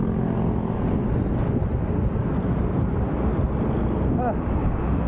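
Strong wind buffeting a microphone during a solo motorcycle ride toward Tagaytay, a continuous loud rushing roar with low rumble that fills the whole stretch without a break.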